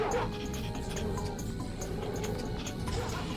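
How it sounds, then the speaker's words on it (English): Angry dogs in the video game Ratchet & Clank bark and yip over a busy game soundtrack, short sharp barks scattered through a few seconds, moderately loud against the steady background. "Two of the dogs appear to be not very happy with me right now."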